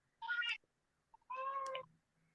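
A gray cat gives two drawn-out meows, close and fairly quiet, with a short pause between them and silence around them.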